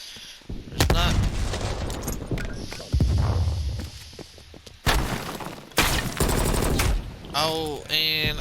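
XRM4 rifle fire in Call of Duty: Black Ops Cold War, with loud bursts of rapid shots cracking in several clusters and footsteps and game sounds in between, plus a voice talking at times.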